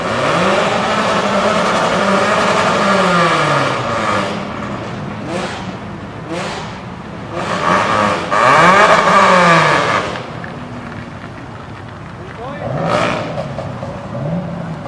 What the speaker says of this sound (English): Now I'm recording the cars.